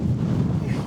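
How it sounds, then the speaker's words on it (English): Wind buffets the microphone in a steady low roar on a hilly disc golf course in winter, loud and close, with no voices. "By far the worst part about disc golfing in the winter is how crazy windy it gets."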